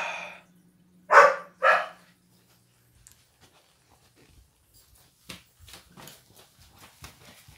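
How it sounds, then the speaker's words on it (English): A Malinois shepherd dog barks in two loud, close bursts near the start, followed by a quieter stretch of scattered, fainter barks and panting-like huffs. "So now she's barking and barking over and over and over again and she won't stop."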